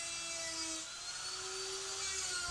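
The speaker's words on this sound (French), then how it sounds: "tout doucement, la ponceuse arrive" A continuous buzzing whine of a power sander running steadily at moderate volume, with a faint wavering pitch and no voices.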